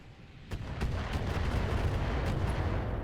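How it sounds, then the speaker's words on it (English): Mortar fire in the BattleTech mech game, with a series of heavy booming impacts in quick succession that roll into a loud, sustained rumbling barrage. "Well, they're mortaring him."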